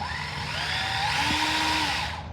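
A small handheld rotary drill with a diamond-coated bit grinds steadily at close range, a high continuous whine that shifts pitch slightly under load, no talking.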